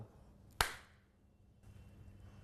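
One sharp, close hand clap rings out alone, sealing a market deal, followed by a faint room tail and soft background murmur.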